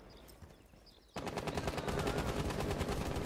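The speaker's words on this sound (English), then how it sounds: "Are they using the LMGs?" Light machine gun fire in Rainbow Six Siege erupts after a quiet second, then continues as a loud, sustained rapid burst to the end.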